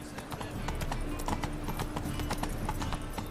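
Horse Roach galloping in The Witcher 3, hooves pounding in a steady, quick clip-clop rhythm, close and continuous with no talk.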